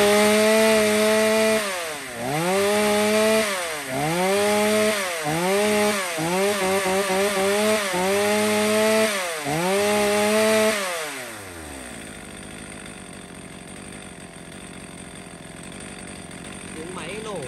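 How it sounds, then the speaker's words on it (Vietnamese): A used two-stroke chainsaw engine revs up and down in about six rhythmic bursts, loud and close, then drops off abruptly, leaving only a faint low rumble. "tiếng máy nổ, tiếng động cơ của nó thì nổ thì cực kỳ êm luôn các bác nhá"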